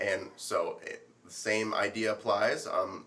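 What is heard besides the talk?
None of the usual background noises is heard.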